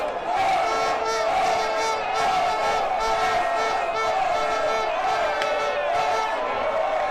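Arsenal fans cheer at the club's trophy parade on a North London street, a dense, sustained roar of crowd shouts and chanting voices that swells and holds for the whole stretch.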